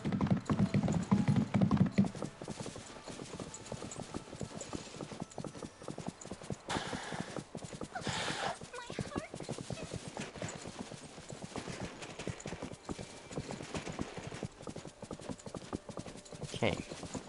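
Horse hooves clip-clop in a steady repeated rhythm in Tinkerbell's Quest, with a brief neigh early on, close and clear over faint background music.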